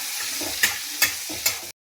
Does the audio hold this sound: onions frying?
yes